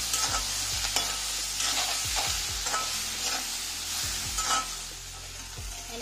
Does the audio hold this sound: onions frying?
yes